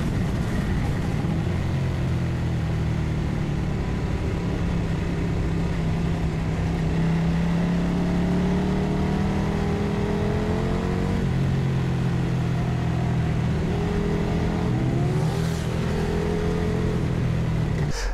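A KTM 1190 RC8 R motorcycle accelerating hard on a race circuit: a loud, continuous engine roar that climbs in pitch through the gears, with steady wind rush.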